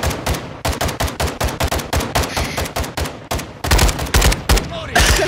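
Rapid bursts of gunfire in Call of Duty: Modern Warfare II, loud and close, shots cracking in quick irregular volleys across the whole stretch with no pauses for talk.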